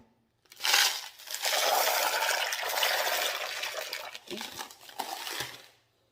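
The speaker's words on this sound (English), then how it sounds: "We'll put a little ceramic media in." Ceramic tumbling media is poured into a Lot-O rock tumbler barrel that already holds rose quartz, making a close, busy rattling clatter that lasts several seconds and trails off at the end.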